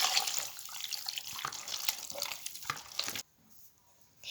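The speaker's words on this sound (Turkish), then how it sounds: "Şimdi suyumuzu ilave ediyoruz." Water poured from a tap into a bowl of batırık, a Turkish cold bulgur and köfte-paste dish, runs steadily and splashes close by for about three seconds, then cuts off abruptly, leaving near silence.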